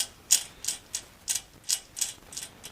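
Repeated ratcheting clicks from the recoil starter pawl of an 8 hp Briggs & Stratton engine on a Powerchief 3.5 kW generator, about eight evenly spaced bursts in under three seconds, close and fairly quiet with no one talking.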